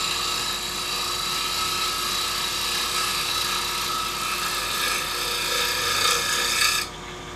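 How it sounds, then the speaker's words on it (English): A carbide tool cuts a birch bowl spinning on a wood lathe, a steady loud rasping hiss over the motor's whine that cuts off abruptly near the end, leaving the lathe's hum. "You'll get some fairly fine shavings coming out here."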